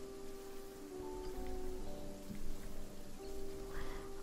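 Storm ambience in the video game Fortnite: a soft, continuous rain-like hiss with a low rumble and faint sustained tones underneath. It stays quiet and steady, with no talk.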